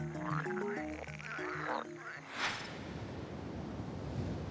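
Male frogs croaking loudly to attract a female: a close chorus of deep, vibrating croaks in quick overlapping calls, then a sudden shift to a hissing wash like surf or wind.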